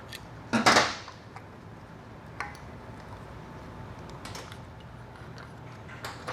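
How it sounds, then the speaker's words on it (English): Snap ring pliers compress a snap ring clip in the case of a Ford AOD automatic transmission during disassembly, giving a short sharp metallic snap and a few faint clicks and taps afterward. "Your snap ring pliers, you're going to compress the clip."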